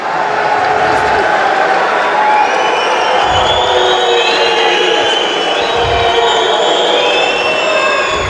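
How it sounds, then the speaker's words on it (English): Unhappy crowd at the 2018 World Judo Championships elimination day, a loud continuous roar of booing and jeering voices filling a large arena, steady throughout. "Crowd very unhappy about something on mat 2"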